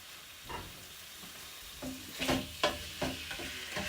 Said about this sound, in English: we're going to stir fry that beef through so it's all cooked